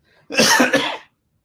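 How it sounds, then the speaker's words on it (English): A single close, harsh cough with a short wet double burst, preceded by a faint breath and followed by silence. "sorry you had to put up with this cough"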